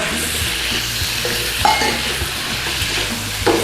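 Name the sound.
onions and peppers sizzling in stir-fry pan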